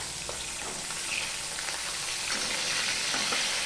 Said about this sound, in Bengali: প্রথমে আমি মাছের মাথা দুটো ভেজে নেব।